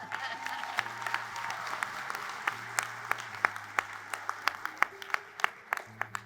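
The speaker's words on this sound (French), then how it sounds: "J'imaginais qu'il va y avoir un peu d'applaudissements, mais pas à ce degré quand même." Audience of a convention with over 600 participants breaking into applause, a dense, sustained clapping that grows with sharper individual claps standing out near the end.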